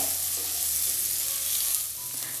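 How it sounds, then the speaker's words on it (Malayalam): Sliced onions sautéing in oil inside a pressure cooker over medium flame, a brief continuous hiss of frying with soft stirring, close and steady. "സവാള ചേർത്ത് കൊടുത്ത ശേഷം വീണ്ടും നന്നായിട്ടൊന്ന് വഴറ്റി കൊടുക്കുകയാണ്."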